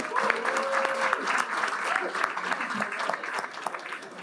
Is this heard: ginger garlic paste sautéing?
no